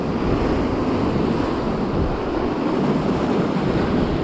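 Ocean surf pounds the shore at dawn on the Costa da Morte coast during lure fishing, a loud, steady roar of breaking waves mixed with wind buffeting the microphone, with no talking.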